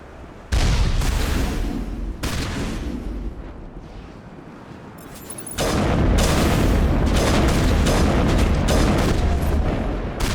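Heavy gunfire and booming blasts in the video game Mass Effect as a turret is shot at, loud and continuous with thudding impacts that grow louder partway through.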